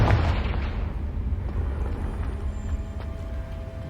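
A loud Confringo fire-spell blast in Hogwarts Legacy opens with a heavy boom, then decays into rumbling crackle with a few sharper pops around the middle and end.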